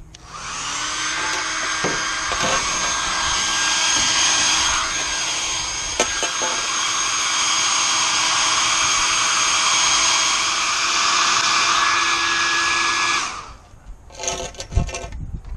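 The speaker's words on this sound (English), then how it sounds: "We're going to heat it with a hair dryer." A hair dryer blowing with a steady, loud whine for several seconds, heating a handlebar grip on a metal pipe, then switching off, followed by a few clattering handling sounds.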